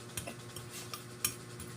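Feed being stirred by hand with a vitamin mix for backyard chickens, giving soft scraping and light clinking taps at an irregular rhythm, fairly faint and close with no talk.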